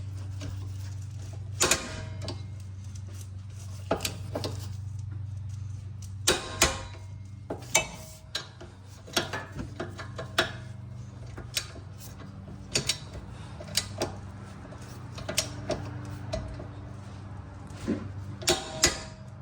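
Torque wrench tightening two 17mm brake caliper bolts to 80 foot-pounds on a 2016-2021 Honda Civic rear brake, giving repeated close ratcheting clicks and sharp snaps over a steady low hum.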